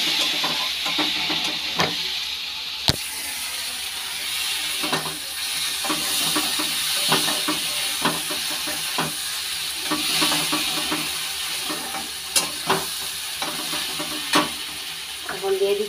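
Food being stirred in a frying pan after salt and turmeric go in: a steady sizzle runs throughout, with repeated scraping strokes at an irregular rhythm and one sharp knock near the start.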